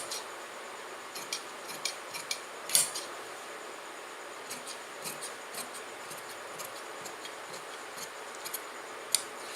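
Scissors cutting formal shirt fabric on a tailoring table, a faint sequence of short snipping clicks spaced irregularly, close but quiet, with no talking.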